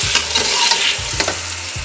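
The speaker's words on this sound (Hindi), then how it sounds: "अब हम इसके अंदर डालेंगे अदरक लहसुन का पेस्ट 2 खाने के चम्मच जो हमारे पास थे, और हम इसको थोड़ा सा फ्राई करेंगे" Ginger-garlic paste fries with spices in a hot pan, giving a steady close sizzle. A few short scraping stirs of a spoon cut through it, with no talking.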